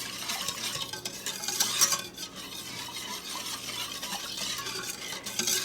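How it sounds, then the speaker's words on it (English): Cherry pie filling made from frozen cherries is whisked constantly in a pan on the stove as it boils and thickens. The close, continuous swishing and scraping of the whisk runs over a faint bubbling simmer. "You want to make sure that you are whisking often, probably more like constantly."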